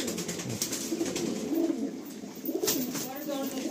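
Pigeons brought from a village home coo softly in low, rolling calls at close range over a hissy background, with a voice speaking at times.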